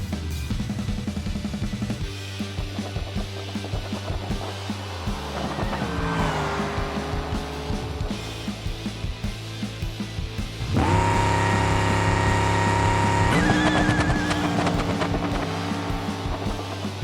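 A supercharged Bruckell Bastion drag car in a no-prep outlaw race in BeamNG roars loudly and steadily, its engine note climbing through gear changes and rising sharply about two-thirds of the way through, with tire noise mixed in and no voices.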